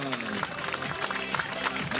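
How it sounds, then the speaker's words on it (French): Applause from the crowd at a 5 km corrida prize-giving in Seurre, a dense, steady patter of many hands lasting throughout with voices mixed in. "applaudissements pour Louise"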